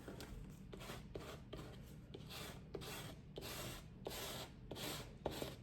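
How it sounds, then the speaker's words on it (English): A Bondo scraper from the auto section drags paint across a surface for a peacock painting, making about ten quiet, rhythmic rasping strokes in close succession with no talking. "And now I'm going to use a Bondo scraper."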